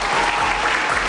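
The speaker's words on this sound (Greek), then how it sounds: "Χειροκρότημα." A television studio audience claps briefly, a short, even burst of applause.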